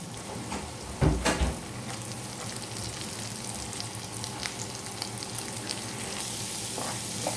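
Sausage pieces and finely chopped onion are stir-fried in a pan, giving a steady close sizzle with a short burst of louder clatter and stirring near the start.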